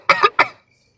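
A quick pair of close, loud coughs from one person, the second slightly shorter, then silence.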